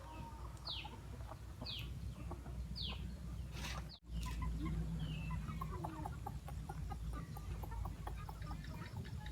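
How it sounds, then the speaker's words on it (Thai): Betong chickens raised on a farm clucking and calling repeatedly at close range, with a rising squawk-like note recurring early on, a brief dropout near the middle, and other bird chatter in the background, no talking. "นี่ไก่เบตงนะครับ"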